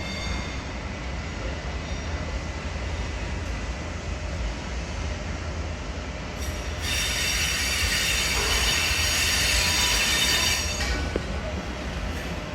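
A V set train passes in its final week of service, a steady rail rumble with rolling wheels that rises into a loud, high wheel squeal for several seconds before easing back to the rumble.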